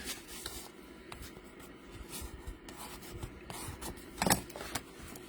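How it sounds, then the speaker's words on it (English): Burnishing a score line on folded card, faint close rubbing and scraping strokes with a couple of sharper scuffs toward the end, quiet and without speech. "I'm going to fold it over, and I'm going to burnish that score line on both sides."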